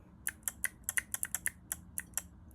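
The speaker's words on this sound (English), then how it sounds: "And it's like a keyboard tapper clicker thing." Keychain fidget toy shaped like a keyboard tapper, clicking in a quick irregular run of about a dozen crisp, close, keyboard-like clicks over quiet background.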